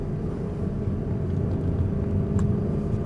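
A car's engine during a driving lesson, a steady low rumble that swells slightly as it revs up, continuous and fairly close.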